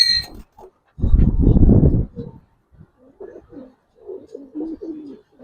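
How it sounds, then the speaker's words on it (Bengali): Giribaz pigeons coo in a loft, a loud one-second burst of throaty cooing followed by softer, scattered murmuring coos, close by. "এটা কিন্তু একটা মাদি কবুতর"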